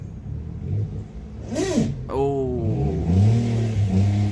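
A Peugeot 107 city car left standing for a year starts and revs, its small engine sweeping up and down in a few sharp rising revs under a brief exclamation.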